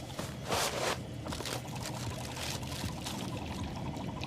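Dry cereal poured into a small beaker of water, a rattling, rushing pour that is loudest near the start and then settles into lighter scattered patters and trickles.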